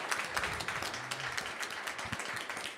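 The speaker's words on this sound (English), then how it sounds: "Let's give them one final round of applause." An audience applauds at the end of a debate. The faint, steady patter of many hands clapping continues throughout, with no voices over it.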